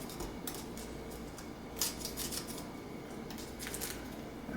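Scissors snip along a sheet of aluminum foil in a home kitchen while a cookie bar is shaped, giving several faint, crisp crinkling cuts and rustles close by, with no speech.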